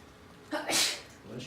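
A single loud, close sneeze bursts out during an anatomy lecture on abdominal organs, followed by a brief voice.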